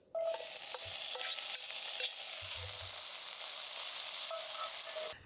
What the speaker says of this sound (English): So I'll blanch them and then I'll fry them.